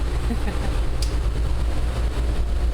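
The tram from Bellagio to Monte Carlo runs with a steady low rumble and rolling hum, close and continuous, with a faint brief high tone partway through.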